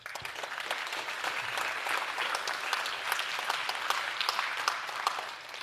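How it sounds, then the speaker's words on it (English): Audience at a startup demo day applauds the program's cohort, a steady, moderately distant round of clapping with individual claps standing out, lasting several seconds. "So once again, a round of applause for our entire cohort."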